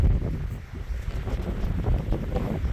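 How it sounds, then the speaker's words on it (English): Strong wind buffets the microphone atop Chairback Mountain summit on the Appalachian Trail in Maine, a continuous low rumbling gusty roar close up, with no other sounds. "A little breezy up here."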